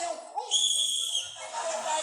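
A toy whistle is blown in one sustained shrill blast lasting over a second, loud and close, with a brief lower tone just before it and a noisy scuffle afterward.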